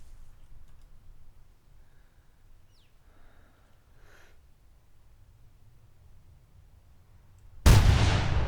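A rifle shot fired at an animal in the hunting game theHunter Classic rings out once near the end, a sudden loud broadband blast after several seconds of quiet ambient wilderness.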